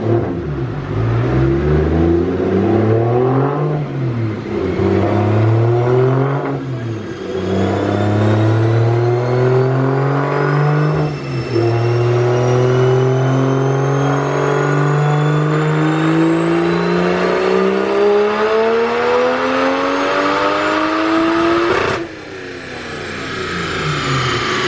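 Single-turbo BMW 335i strapped to a dyno, engine pulling hard through gears with rising revs, brief dips at each shift and then a long sustained climb before cutting off, loud and close with no talking.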